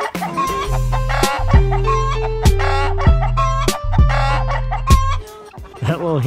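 Chickens cluck and a rooster crows loudly and close by in a farmyard compound, with repeated sharp bursts of crowing over a steady run of clucking and hen calls.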